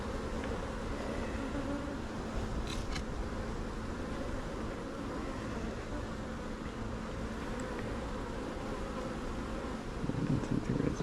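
Honey bees buzz steadily around hive frames during an inspection, a dense close hum that stays even throughout with no talk over it.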